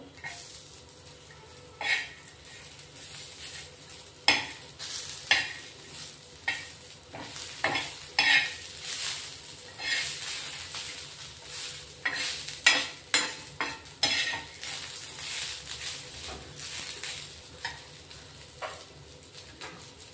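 Ten to twelve garlic cloves and three to four ginger pieces roast in a pan alongside dried coconut for a chicken gravy masala, giving a steady sizzle broken by repeated scraping stirs of a spoon, close and without talk.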